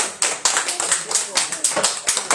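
A church congregation applauds in praise, steady rhythmic clapping in unison at a brisk beat, loud and close, with voices cheering and talking faintly underneath.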